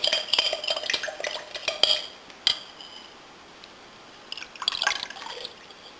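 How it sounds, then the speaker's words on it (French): Starch solution is poured and transferred into a glass sterilising jar, giving clinking glass and liquid sounds in bursts, then a quiet pause before more clatter and trickling toward the end. "je vais transvaser la solution d'amidon dans le bocal à stériliser"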